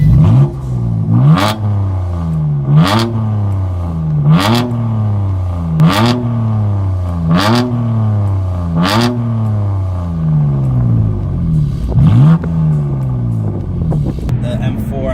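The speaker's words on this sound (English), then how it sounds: "The competition exhaust sounds a lot better." A 2018 BMW F80 M3 Competition's engine revs hard again and again through its competition exhaust, each rise in pitch cut by a sharp pop or crackle, loud and close.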